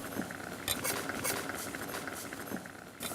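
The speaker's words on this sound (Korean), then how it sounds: "아 보글보글 소리 좋다" Steady bubbling and popping of water at a boil for poaching salmon, close up, with faint clinks of utensils mixed in.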